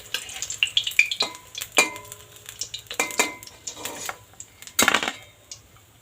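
Pieces of pointed gourd fry in hot oil, with scattered sizzling bursts and sharp metal clinks and scrapes from a spatula against the pan, close by.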